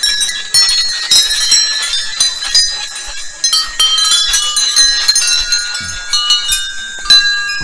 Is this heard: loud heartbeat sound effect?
no